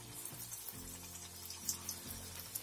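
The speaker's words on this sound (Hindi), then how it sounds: "गरम तेल है और ये फटाफट मैंने डाली अपनी ये पूड़ियां" Panipuri shells (puris) frying in hot oil give a soft, steady sizzle and bubbling, faint and continuous throughout.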